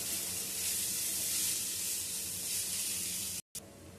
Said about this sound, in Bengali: পেঁপেটা এরকম হালকা করে ভেজে নিতে হবে।